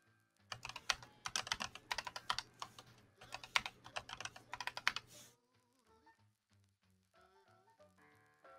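A password being typed on a computer keyboard, with quick, close clattering keystrokes in bursts for about five seconds, then a pause and faint soft sounds afterward.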